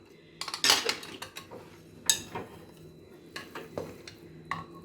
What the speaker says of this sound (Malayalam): നമുക്ക് ഈ കുക്കർ ഒന്ന് തുറന്ന് നോക്കാം.